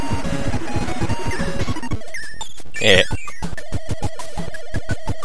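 Invincibility music from the NES game Kirby's Adventure plays as a busy, chaotic jingle with rapid pulsing beats and a swirling sweep midway. A short spoken interjection comes before it at the start.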